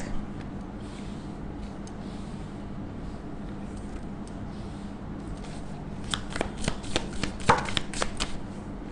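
Tarot cards are shuffled close by in a quiet room, with a steady low hum throughout and a flurry of crisp riffling snaps near the end.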